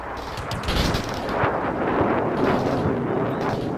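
Artillery from a fire mission in the war game Combat Mission Shock Force rumbles in a string of heavy overlapping blasts, a continuous loud roll of explosions with no talking.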